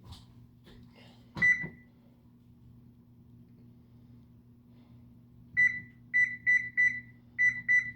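A kitchen oven's control panel beeps as it is set: one early beep, then a run of six short, bright, evenly pitched beeps in quick irregular succession over a steady low hum.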